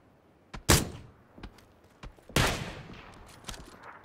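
Gunfire in PUBG, a few scattered shots at mid distance, two louder booming reports standing out among fainter single cracks spaced irregularly over a quiet background.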